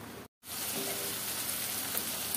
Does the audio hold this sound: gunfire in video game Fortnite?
no